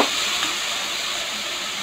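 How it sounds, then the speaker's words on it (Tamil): Onions with a little turmeric powder frying in a pan, giving a steady close sizzle with faint stirring, the hiss holding even throughout with no talk. "எல்லாம் நல்லா வதங்கணும். நல்லா வதக்கிட்டு வந்துடலாம்."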